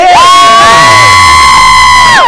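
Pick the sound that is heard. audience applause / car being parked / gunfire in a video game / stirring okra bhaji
audience applause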